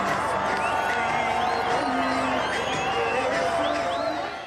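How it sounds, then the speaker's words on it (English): A large crowd of Palestinian spectators cheers and whoops continuously, with music playing underneath, a dense steady roar that stays loud throughout before easing slightly at the end. "Music played while a large crowd of Palestinian spectators cheered"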